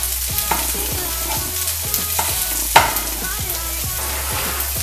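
Ground sausage sizzling in a pan for biscuits and gravy while a utensil breaks it up, steady frying hiss with repeated scraping strokes and one sharper knock near the middle.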